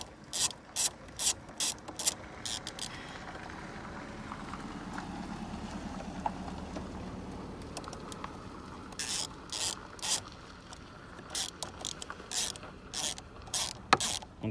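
A ratchet wrench unscrewing the nut on a car battery bracket, bursts of rapid clicking near the start and again toward the end, with quieter rubbing and shuffling between, close and alone without talk.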